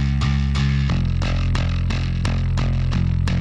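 Several subby, chorused synth basses layered together in a song, a deep sustained low-end drone under a steady beat of rhythmic percussive hits, loud and close with no voices.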